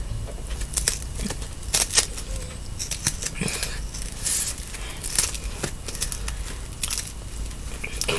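Scissors snip through craft material for Dollar Tree farmhouse-style bunnies, a close run of small irregular cuts, crinkles and crackles with no talking.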